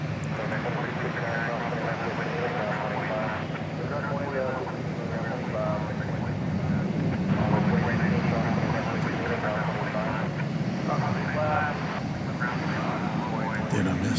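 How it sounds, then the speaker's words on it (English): An MD-11 jet taking off at DFW Airport after dark gives a sustained, moderately loud engine roar, swelling slightly midway, with a voice talking over it. "See if we can get an MD-11 rocketing into the sky"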